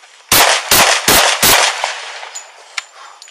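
Police gunfire erupts at a shooting scene, with four loud, rapid gunshots in quick succession, followed by a few fainter sharp sounds as the shooting stops.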